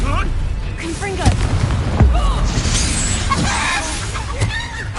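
Confringo spell explosion in the video game Hogwarts Legacy, booming bursts and crackling blasts over a busy battle soundscape, with game voices talking over it.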